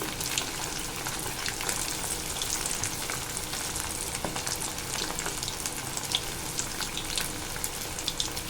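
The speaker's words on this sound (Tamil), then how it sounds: "நம்மளுக்கு தேவையான அளவுக்கு எண்ணெயை ஊற்றி கொஞ்சம் கொஞ்சமாக பொறிச்சு எடுத்துக்க போகிறோம்" Pieces of seer fish fry in a shallow layer of oil in a pan, giving a steady, dense sizzle that hisses evenly throughout, close up and with no voices.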